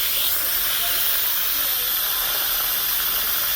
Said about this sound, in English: now I'm releasing the pressure because it has cooked for its full time